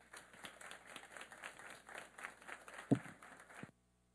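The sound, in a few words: welcoming applause for a speaker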